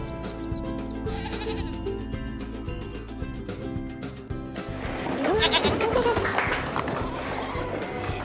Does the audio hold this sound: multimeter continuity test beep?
no